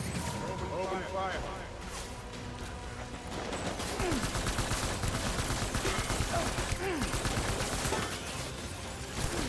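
Assault rifle fire in the video game Death Stranding comes in repeated bursts over a busy battle, with rapid cracks growing denser and louder in the second half.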